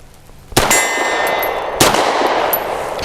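Two sharp pistol shots from a Grand Power P1 Ultra ring out about a second apart, each followed by a bright metallic clang and a lingering ring from the steel target, loud and close with no voices over them.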